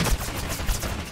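Gunfire with heavy recoil in the video game Totally Accurate Battlegrounds, dense rapid shots crackling loudly and continuously, with two heavier thumps standing out among the bursts.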